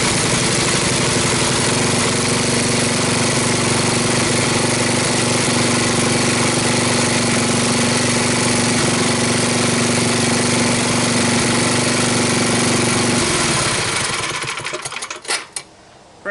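An old Sears rotospader's small engine runs at a steady, buzzing idle for a long stretch, then cuts out and sputters into a few faint knocks and rattles.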